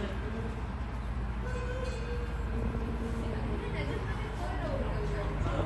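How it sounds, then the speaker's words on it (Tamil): A coal-fired steam locomotive hauling a small tourist train in an English style, rumbling steadily nearby with rail and carriage noise throughout, and faint crowd chatter mixed in. "உண்மையாகவே கோல் இன்ஜின்."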